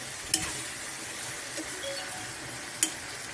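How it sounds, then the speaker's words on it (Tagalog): Native chicken sautéing in its own fat for tinola, a steady soft sizzle with a couple of sharp utensil scrapes against the pot, fairly quiet and with no talking. "Nagigisa na po sa sarili niyang mantika."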